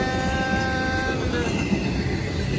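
The tail end of a long freight train rumbles steadily past at close range near a baseball park on Lyndon Road in Fairport, New York, with continuous rolling wheel noise and a faint tonal squeal.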